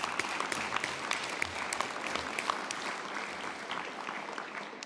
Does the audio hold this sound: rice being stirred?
no